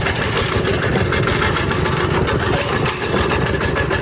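A vehicle engine runs steadily while being driven along a smooth road, a loud, continuous drone with a low rumble and no break across the whole stretch.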